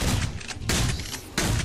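Three heavy bursts of gunfire in the video game Dropship Down, in quick succession, loud and booming with rumbling tails between shots.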